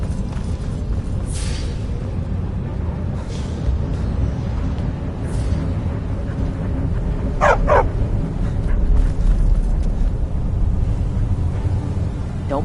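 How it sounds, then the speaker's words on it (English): Dogs in the Skyrim video game bark and yip in a few short bursts over a steady, dense game ambience, moderately close. "Don't mind the dogs."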